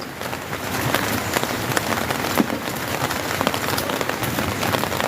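Heavy rain hammers down on a flooding road, a loud, unbroken wash of dense drops with scattered sharper splats, near and steady throughout.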